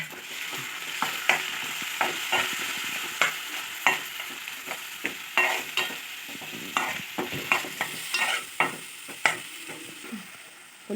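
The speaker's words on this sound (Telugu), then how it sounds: "అల్లం వెల్లుల్లి పేస్ట్ వేసుకుని ఉల్లిపాయ పేస్ట్ అల్లం వెల్లుల్లి పేస్ట్ వేసుకుని బాగా వేయించుకోవాలి." Onion paste and ginger-garlic paste fry in a pan with a steady sizzle, while a spoon scrapes and stirs in repeated sharp strokes about once a second, close and alone.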